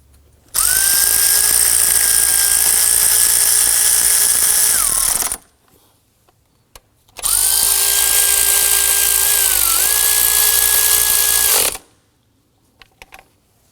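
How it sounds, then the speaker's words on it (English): A power tool drives bolts in during a serpentine belt replacement on a 2003-2014 Volvo XC90, two long, loud whining runs of several seconds each with a steady pitch that dips briefly near the end, separated by a short quiet gap. "we can grab our power tool and zip those in"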